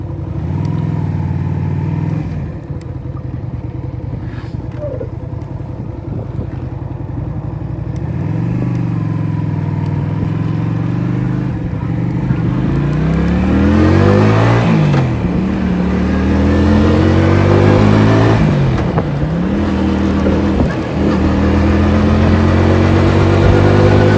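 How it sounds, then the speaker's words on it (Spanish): A motorcycle engine hums along on a ride in Lanzarote and revs up again and again, its pitch climbing and falling with each throttle burst, close and fairly loud. "Vamos con la moto."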